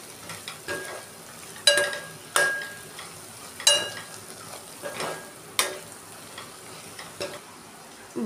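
A spoon stirs turmeric, salt and chili powder in a sizzling pan, with irregular scraping clicks and taps against the metal over a low frying hiss, close and moderately loud, with no talking.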